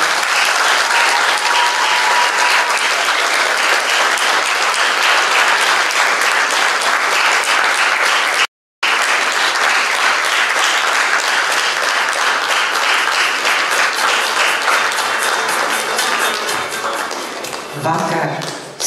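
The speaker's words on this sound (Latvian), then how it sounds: "Ar aplausiem!" A concert hall audience at a student concert in Preiļi Culture House breaks into long, dense, loud applause during an award presentation, with one brief cut-out and a fade toward the end.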